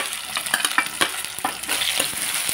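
Finely chopped onion fries in a pan with two red and two green chillies and cumin, a crackling sizzle punctuated by quick, uneven stirring scrapes, close and without speech.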